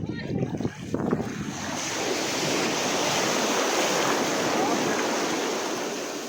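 Broad, steady rush of sea waves washing in at Dingalan, Aurora, mixed with wind buffeting the microphone, after a brief bump of handling noise at the start.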